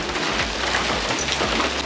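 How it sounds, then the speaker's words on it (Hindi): Heavy rain with hail pours steadily during a drive from Dehradun toward Srinagar Garhwal, a dense continuous hiss of drops pattering on surfaces close by, with no voices. "बारिश बहुत तेज़ हो गई है"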